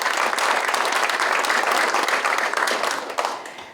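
An audience in a large auditorium applauds to welcome guests at an industrial complex association ceremony, a steady dense wash of clapping that holds loud throughout and tapers slightly near the end.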